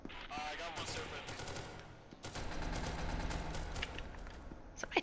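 Rapid gunfire from the video game SCP: Secret Laboratory, dense bursts of shots over a noisy mix with players talking, fairly quiet overall.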